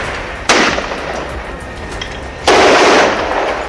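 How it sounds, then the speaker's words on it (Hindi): Two loud, sharp gunshots crack out about two seconds apart during urban combat around a house in southern Gaza, each followed by a long echoing tail that rolls between buildings. "जैसे ही वो मकान के नजदीक पहुंचे गोलियां चलने लगी।"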